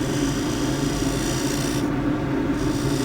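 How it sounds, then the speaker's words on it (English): Spindle detail gouge cutting beads in splintery she oak on a wood lathe, a continuous rasping, scraping cut over the steady hum of the spinning lathe, with a brief lighter pass midway. "I'm going to cut some beads, and I'm going to use a detail gouge, spindle detail gouge"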